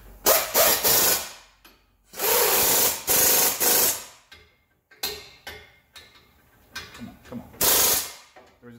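Impact gun running bursts on brake bolts during a brake job, rattling hammering blasts of about a second each with gaps between them, loud and close.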